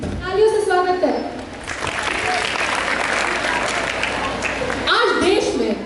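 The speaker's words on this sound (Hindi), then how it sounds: "तालियों से स्वागत करें।" An audience at a school Hindi Week event applauds a speaker being welcomed onto the stage, sustained loud clapping that fills the hall, with an announcer's voice at the start and again near the end.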